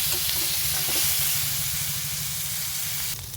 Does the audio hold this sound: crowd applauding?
no